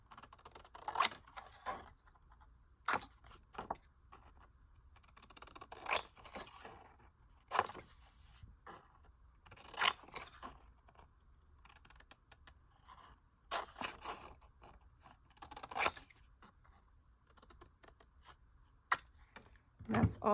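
Scissors snip through a paper junk journal printable for a Christmas gingerbread file folder, giving scattered short crisp cuts in irregular bursts close by, with quiet pauses between them.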